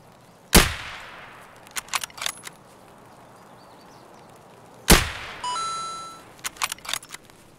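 Gunfire in Escape from Tarkov on the Woods map: two sharp, loud single shots about four seconds apart, each trailing off into a brief echo, with small clicks, clinks and a short electronic tone in between.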